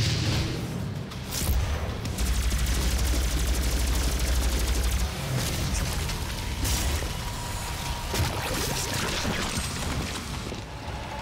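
Rapid sustained gunfire from the player's weapon in the Doom video game, continuous loud bursts layered with booms and game effects, filling the whole stretch.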